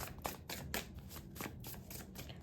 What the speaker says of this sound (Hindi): मेरे को शफल करते रहना चाहिए आपके कार्ड्स।